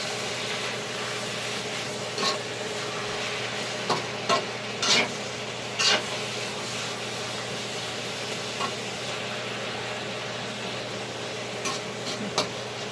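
Meat and onions fry in a pan with a steady sizzle, broken by a few short clinks and stirring scrapes, with no talking.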